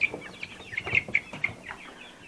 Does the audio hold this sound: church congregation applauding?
no